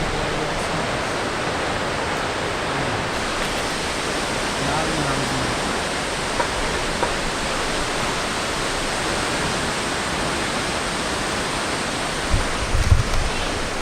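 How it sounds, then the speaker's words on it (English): Girmal waterfall in the monsoon gives a loud, constant broadband roar of rushing water. Faint voices and a brief knock of handling noise come near the end. "So here is the waterfall for which we have come so long."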